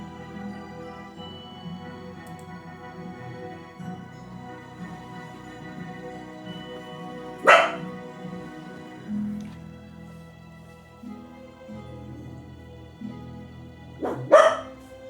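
A dog barks twice in short, sharp bursts, one midway through and one near the end, over a steady low indoor hum.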